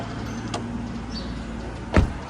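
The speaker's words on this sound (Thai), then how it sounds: "เปิดประตูก่อนนะ" Door of a grey 2023 Isuzu V-Cross ZP pickup truck opening, heard as a faint click and then a sharper thud of the latch and door over a low steady background hum.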